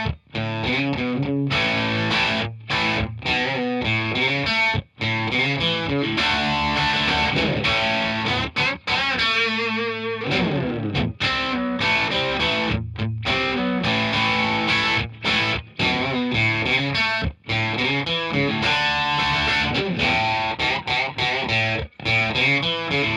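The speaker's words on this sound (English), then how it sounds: "This is a halo with a super short setting, but the mix is kind of high." Distorted electric guitar plays a continuous busy riff through a Halo delay pedal on a very short, high-mix setting, each note followed by a quick slapback repeat that thickens the sound.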